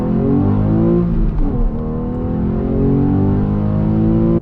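Porsche 911 engine under hard acceleration, a loud, continuous rising rev heard from inside the car, a brief dip near the middle as it shifts gear, then climbing again before cutting off.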